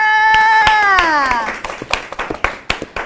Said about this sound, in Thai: งั้นขอเสียงปรบมือให้น้องยินเลยค่ะ